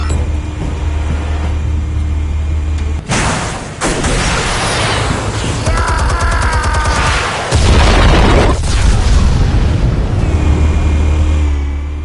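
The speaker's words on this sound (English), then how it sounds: "Explosives armed. Fire when ready." Explosives detonating in a Batman video game: two loud booming blasts a few seconds apart, each with a heavy low rumble and crackling debris, close and alone against a humming background.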